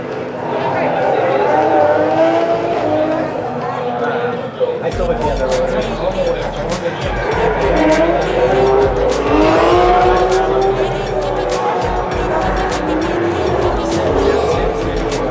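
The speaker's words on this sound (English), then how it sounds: "these guys are out here drifting on Laguna Seca." Cars drifting on the Laguna Seca circuit at a Gridlife event, engines roaring loudly and tires squealing in long sustained screeches throughout, with a person talking over the noise.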